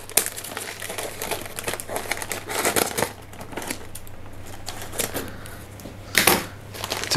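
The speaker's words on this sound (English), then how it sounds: "To get the tape and the newspaper off." Scissors snip and tape and newspaper packaging crinkle and tear as a mailed orchid is unwrapped, busy close rustling with short bursts of cutting and crumpling.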